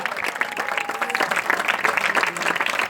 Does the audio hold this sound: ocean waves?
no